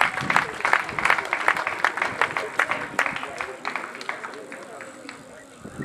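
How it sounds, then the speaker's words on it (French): A congregation at a funeral applauding and acclaiming the Lord: dense, rhythmic clapping that is fairly loud at first, then thins and fades, with voices mixed in. "Acclamons pour le Seigneur."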